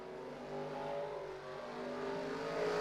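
Race cars roaring together on a Myrtle Beach track during a winter series race, a steady dense engine drone from several cars running side by side, rising slightly toward the end.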